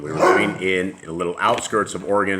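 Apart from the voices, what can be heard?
dog barking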